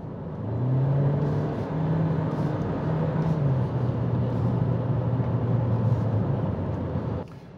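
A Geely Coolray with a DCT gearbox accelerates, its engine giving a steady, loud drone whose pitch climbs and shifts in steps as the gears change, ending abruptly.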